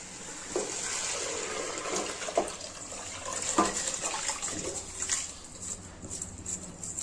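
Washed rice is added to a pot of veg biryani in Healux cookware, giving soft watery splashes and pouring with a few brief clatters, close and moderately loud, with no talking.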